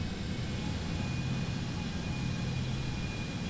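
Jet engines of a Citation X during takeoff in the FlightFX flight simulator, a steady, dense roar with a thin high whine, constant and close without breaks.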